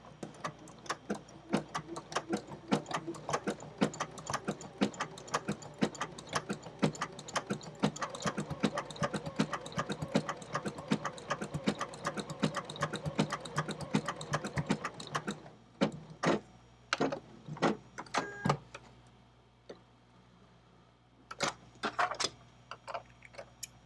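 A sewing machine stitches an English paper-pieced quilt block with a fast, even train of close ticking clicks for about fifteen seconds, then only a few scattered single clicks follow.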